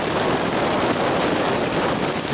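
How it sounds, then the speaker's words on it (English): Strong wind batters the microphone on the High Street fell summit, a loud continuous roaring buffet with no speech. "the wind is absolutely incredible"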